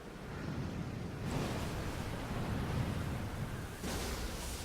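Broad rushing surf of ocean waves in a cel-shaded Zelda Wind Waker trailer, a steady wash swelling and easing over several seconds with faint music and no talk.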